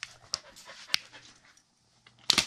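A dog wearing reflective bands pants in quick, close breathy bursts, broken by a short quiet gap, with no talk.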